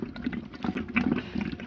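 Water splashes and gurgles into a pot of saag cooking on a clay stove, a short close pour with bubbling liquid sounds.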